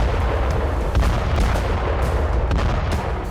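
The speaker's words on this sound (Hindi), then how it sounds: "टैंकों की वजह से बारूदी सुरंग में धमाका हो जाता।" Landmine explosions set off by tanks boom one after another in quick succession, loud heavy blasts over a constant rumbling background.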